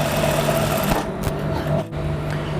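A sewing machine runs steadily, stitching the neckline of a boat neck blouse, its motor hum continuous and close throughout with a brief dip near the end.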